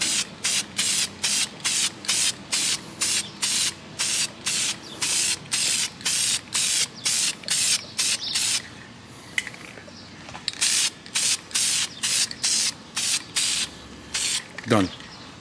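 Short bursts of spray paint hiss in a quick, even rhythm as a base coat goes onto a K-Series engine, pausing briefly before the rapid bursts start again.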